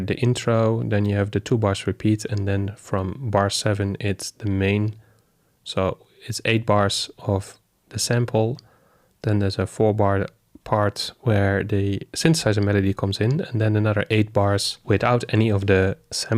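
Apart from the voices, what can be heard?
No everyday noises stand out.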